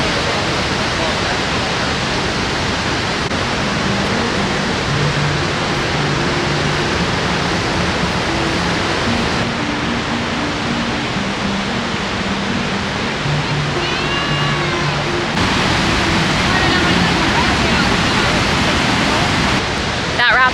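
Niagara Falls roars as a steady, dense wash of falling water that fills the whole stretch evenly and loudly, with faint tonal sounds layered underneath.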